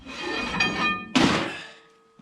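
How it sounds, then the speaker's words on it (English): Axle shaft pulled out of a Dana 70 full float rear axle, a metallic scraping slide followed by a sharp clunk and ringing metal that fades away, close and alone. "now you pull the axle out"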